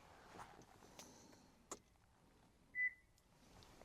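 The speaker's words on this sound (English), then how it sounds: "It beeped." Toyota Tacoma, third generation, giving a single short electronic beep during key registration, faint and isolated among quiet clicks and cabin noise.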